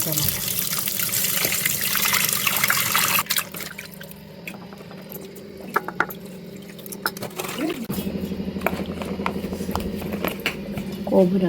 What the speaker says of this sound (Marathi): मच्छी अशी स्वच्छ धुवून घ्यायची